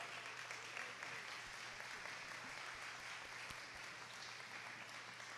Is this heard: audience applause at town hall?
yes